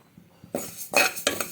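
Moong dal dry-roasted in a pressure cooker with no ghee or oil, heard as three quick metallic scrapes and clinks of a spoon against the cooker pot, close and brief.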